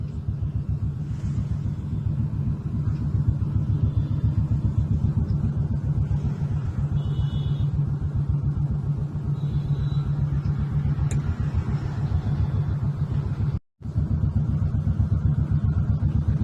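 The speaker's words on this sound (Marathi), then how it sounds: "किती ट्रॅफिक आहे बघा" Heavy evening traffic crawling across the Koregaon Park bridge beside a five-star hotel, heard as a steady, close low engine rumble with idling motors and faint horns, with a brief dropout near the end.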